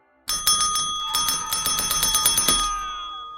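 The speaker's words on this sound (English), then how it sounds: "Then the bell began ringing furiously." A bell rings rapidly and insistently, a fast train of bright metallic strikes for a few seconds before trailing off.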